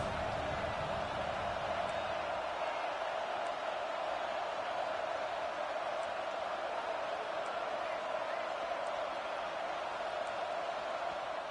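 A football stadium crowd keeps up a loud, continuous roar against the offense, holding at an even level throughout with faint whistles above it.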